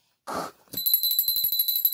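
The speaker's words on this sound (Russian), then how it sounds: "Колокольчик." A school bell in a children's video game rings to end a lesson in a Marcusland school, a rapid, steady metallic trill after a short burst of sound.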